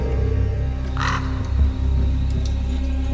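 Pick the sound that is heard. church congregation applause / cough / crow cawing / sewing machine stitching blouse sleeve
crow cawing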